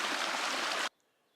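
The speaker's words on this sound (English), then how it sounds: "A nice little bubbling underground spring here." Water from a small underground spring on a mountain trail, a steady, close rushing-bubbling flow that cuts off abruptly, leaving near silence.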